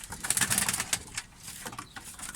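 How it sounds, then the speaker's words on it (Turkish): Homing racing pigeons coo softly inside a loft, several low throaty calls overlapping in a quiet, close setting with faint rustling between them. "Burada güzel posta güvercinlerim var."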